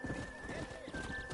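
A horse's hooves clip-clop briefly alongside a whinny in Red Dead Redemption, with a steady electronic tone underneath, sounding like game audio.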